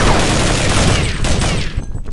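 Gunfire in Counter-Strike: Global Offensive, a loud dense volley of shots that thins out toward the end, with no voices over it.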